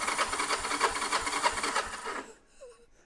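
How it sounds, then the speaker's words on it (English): Motorcycle kickstarter cranking with a rapid rhythmic mechanical churning for about two seconds, then cutting out into near quiet as it slips. "It would crank for a second and then it would start slipping."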